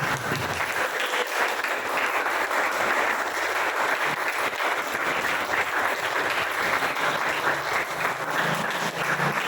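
A church congregation applauding at a Christmas service, dense sustained clapping that stays loud and steady throughout.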